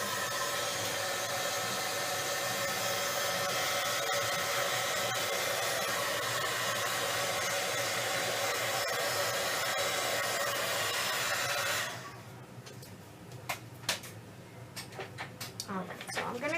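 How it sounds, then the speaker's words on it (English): Heat tool drying paint on paper, heard as a loud steady blowing whoosh for about twelve seconds before it switches off, leaving faint clicks and handling noises. "let me get my heat tool and just make sure this is dry"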